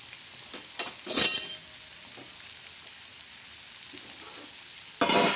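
A tempering of oil with onion sizzling in a pan while bitter gourd (karela) is cooked, a soft steady fry hiss with a louder burst of crackle early on and another near the end, no talking.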